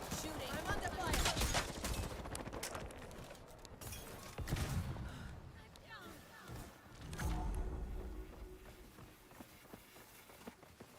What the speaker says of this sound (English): Shooting. I'm under fire.